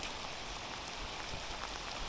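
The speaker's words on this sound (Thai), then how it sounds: "เจ้าฝน" Rain falls steadily during a fishing trip, an even, dense hiss of drops with no voices.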